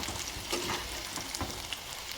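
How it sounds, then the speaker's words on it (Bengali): Boiled elephant foot yam and potato pieces fry in hot oil in a karahi, making a faint, steady sizzle with a few soft stirring bumps. "ওই কড়াইতে তেল গরম করে ওল সেদ্ধ করা আলু আর ওলটা একটু লাল লাল করে ভেজে নিতে হবে"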